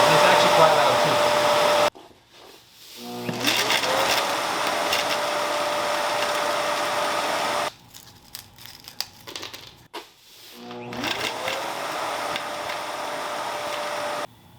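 A 1000-watt EyeVac touchless vacuum motor whines on with a rising spin-up, runs loud and steady, cuts off, then starts up again with the same climbing whir.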